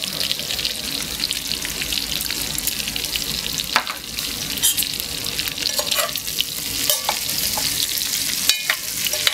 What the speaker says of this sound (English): Stir those around.